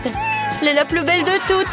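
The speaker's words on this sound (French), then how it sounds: "C'est mon chat" A pet cat meows a few times, mixed in with a person speaking French close by.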